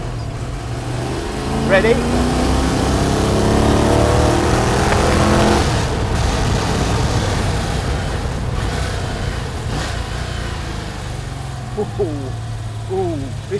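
A Lola T70 replica car's engine revs and pulls hard, rising in pitch in swells close by, with a short spoken word near the start.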